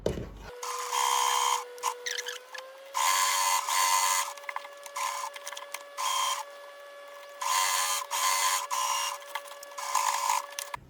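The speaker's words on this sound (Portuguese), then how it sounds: "nós vamos fazer a costurinha aqui em volta de acabamento" A sewing machine stitches a finishing seam around the fabric of a handmade baby nest, running in several loud, steady bursts separated by brief pauses, with a constant hum beneath.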